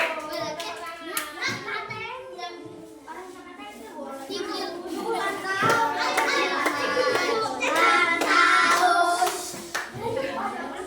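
A class of children claps in rhythm for a tepuk salut cheer, with chanting voices through most of it and claps growing louder and denser toward the end.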